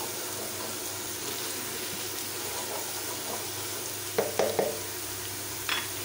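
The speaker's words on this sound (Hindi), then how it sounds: "ये आप देख सकते हैं कि प्याज पक रही है।" Onions fry in oil in a pan with a steady soft sizzle, broken by a few short clattering stirs of a spoon against the pan.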